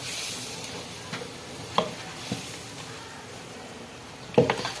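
A metal spoon stirs ghee and flour together in a bowl for Eid cookie dough, faint soft scraping with a few sharp clicks and taps of the spoon against the side, close and quiet with no talking.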